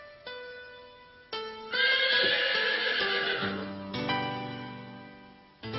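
A horse neighs in several loud whinnies, each rising and falling, separated by short pauses and heard close with no other sounds.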